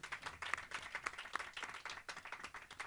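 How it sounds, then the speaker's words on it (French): A small audience applauds at an evening show in a media library, a brisk continuous patter of many hands clapping at moderate distance, fairly soft and even throughout. "Et il mérite les applaudissements"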